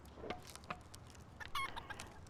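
Chickens in the video game Palworld cluck in a few short, scattered bursts, soft and somewhat distant over a quiet ambient background, with no talking.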